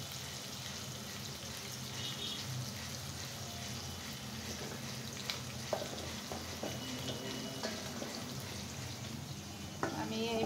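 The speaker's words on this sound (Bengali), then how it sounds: "আমি এখন খুব সুন্দর করে লাল লাল করে ফ্রাই করে নেব মাছ এবং" Fish and pieces of sweet pumpkin fry in a pan with a steady, even sizzle that runs the whole time, with a few faint clinks and scrapes near the end.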